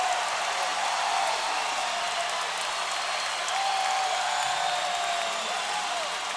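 A home crowd at a women's basketball game between Indiana and South Dakota State in the WNIT, a steady wash of cheering and clapping from a packed arena, sustained and fairly distant throughout.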